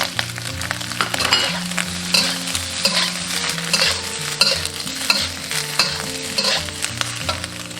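Beef offal stir-fried in a hot pot sizzles loudly and continuously, with rhythmic scraping strokes of the stirring utensil recurring about once a second.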